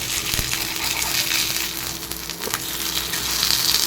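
Bitter gourd stir-fry sizzling steadily in a pan as it is turned, a close, even crackling hiss with faint scraping and stirring.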